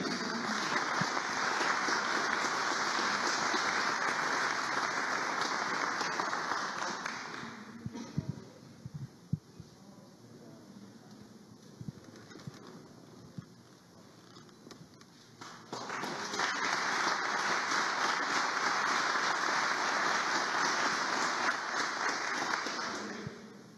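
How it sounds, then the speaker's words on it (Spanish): Audience applause at an awards ceremony honouring a Peruvian Amazon bionegocios company, a broad steady clapping wash that fades out midway, leaving a quiet gap, then swells back up and continues. "El aplauso para ellos."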